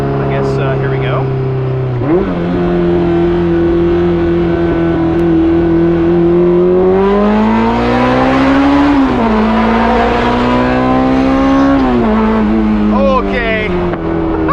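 A Honda S2000 with a built K24 engine revs hard and climbs past 8,000 RPM, its loud rising engine note swelling and falling in pitch with gear changes, filling the cabin under the drive.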